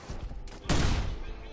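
Heavy bolter shot from a Warhammer 40K bolt weapon modded into Fallout 4, a sudden loud blast around the midpoint followed by a long rumbling decay over background game noise.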